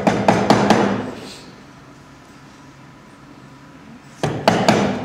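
Sharp hammer blows on a chisel cutting a mortice for a lock in wood: a quick cluster of three or four close, loud knocks, a quiet pause of a few seconds, then another rapid cluster of strikes.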